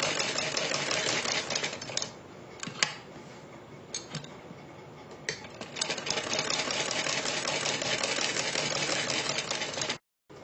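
A sewing machine runs steadily, stitching fabric along a garment neckline beside buckram, with a fast, even mechanical whir and ticking. The sound is close and continuous and stops abruptly just before the end, with no speech.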